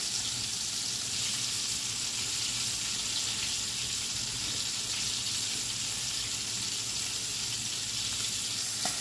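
Squirrel pieces, including backbone pieces, fry in oil on a wood stove, giving a steady close crackling sizzle that runs unbroken throughout at moderate level, with no voices.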